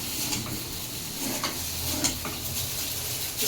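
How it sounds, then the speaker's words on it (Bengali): Egg, potato and carrot fry in a pan with a steady, close sizzling hiss, broken now and then by faint clinks of a utensil against the pan. "ওই জন্য ডিম, আলু গাজর দিয়ে ভেজে দিলাম"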